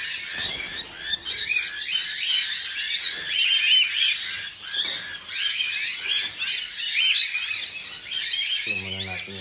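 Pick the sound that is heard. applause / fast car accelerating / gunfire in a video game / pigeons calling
pigeons calling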